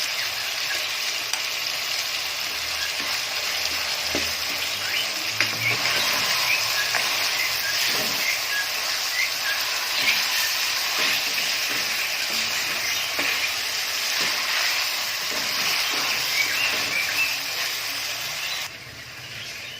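Garlic paste frying in a karahi while making chicken karahi, a steady close sizzle with scattered stirring scrapes and clicks running throughout before easing slightly at the end.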